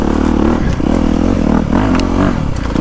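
A 2025 KTM 350XCF Factory Edition or 2025 Honda CRF250R Works Edition dirt bike engine revs steadily up close, a loud continuous buzzing drone with brief dips and rising pulls of throttle.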